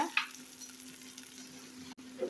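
Onion, green chillies and curry leaves sizzle steadily in hot oil for leftover-rice tamarind rice, a continuous close frying hiss with a light clatter near the start and a brief dip near the end, no voices.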